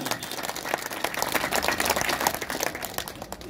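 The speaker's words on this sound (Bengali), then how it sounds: "আমরা তাকে খুলনাবাসীর পক্ষ থেকে জোরে করতালি দিয়ে অভিনন্দন জানাতে চাই।" Applause from a crowd at a construction workers' federation district branch gathering in Labanchara, Khulna, greeting the organizing secretary: dense, steady clapping from many hands sustained throughout, fairly loud and unbroken.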